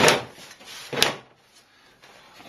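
The large plastic collection drawer of a GBC Auto Shredder 175X slides and knocks shut, two close, hollow clunks about a second apart followed by a quiet tail.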